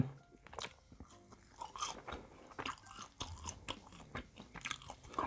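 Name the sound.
biting and chewing fried tomato sauce snack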